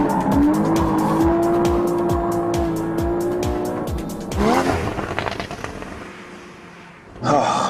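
A Porsche Cayman GTS on a race track, the engine revving hard and rising in pitch through the gears with tire squeal, loud and close, then brief quieter gaps and another sharp burst of revving near the end.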